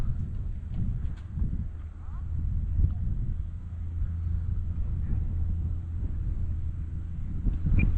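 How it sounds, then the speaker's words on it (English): Strong wind buffeting a microphone outdoors while an E-Flite UMX Radian RC glider flies, a steady low roaring rumble filling the whole stretch without pause. "Ooh, the wind is strong"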